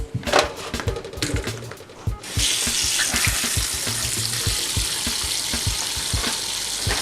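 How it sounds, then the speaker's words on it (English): Frozen shrimp clatter into a metal colander in a sink, then cold tap water runs over them in a steady, close hiss of splashing water. "just toss it in the colander in the sink and start running some cold water over them"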